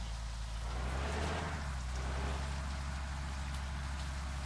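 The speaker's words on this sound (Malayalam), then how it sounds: "മഴ വന്നു." Steady rain hiss from a bus simulator video game with a low rumbling hum underneath, continuous throughout with no talking.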